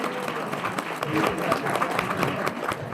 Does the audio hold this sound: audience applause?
yes